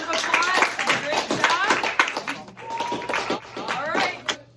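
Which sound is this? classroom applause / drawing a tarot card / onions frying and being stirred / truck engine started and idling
classroom applause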